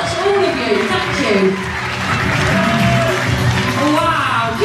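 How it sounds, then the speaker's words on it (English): Audience at a Strictly Come Dancing show in Reighton Sands applauds and cheers the dance finalists, a steady roar of claps and whoops running beneath a presenter talking over a microphone. "big round of applause for all of our finalists tonight"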